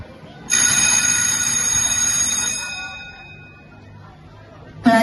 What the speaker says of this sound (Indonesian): bel istirahat pun berbunyi